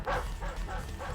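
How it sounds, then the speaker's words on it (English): A dog barks repeatedly in the video game Deus Ex, several quick yapping barks in a steady rhythm, fairly loud against a low rumbling game background. "Dogs can now bark to alert their owners."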